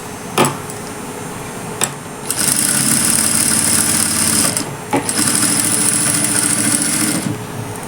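A sewing machine stitches a child's kurta sleeve in two sustained whirring bursts, each a few seconds long, with a few sharp clicks and brief pauses between them.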